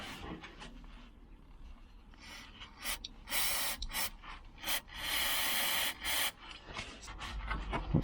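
Rusty brake parts from a Volvo 740 being scrubbed, heard as bursts of harsh brushing and rasping, some long and steady, others short, close by with no talk.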